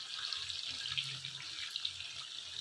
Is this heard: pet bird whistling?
no